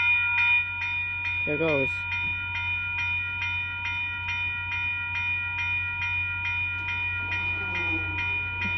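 A VIA Rail F40 locomotive passes a crossing, its horn holding steady chord tones over a continuous low rumble of rolling wheels. A brief voice is heard near the start.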